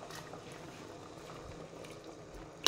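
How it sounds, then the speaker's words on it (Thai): A pot of pork soup simmers and bubbles on the stove, a soft, steady low boil that stays close and quiet, ending with a brief sharper knock. "ต้มกินในหม้อเดี๋ยวจะหั่นผักใส่ต้มหมูให้มันเปื่อยๆก่อน"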